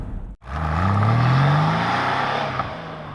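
A Porsche 911 Carrera 4S Type 993 engine and exhaust rev with a smooth, melodic rising tone, holding strong and close for a few seconds before easing off.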